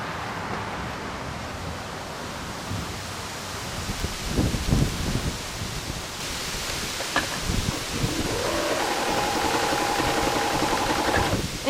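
Home sewing machine stitching fabric for a salon haircutting cape, a steady mechanical whir building through the latter half after some rustling and handling sounds.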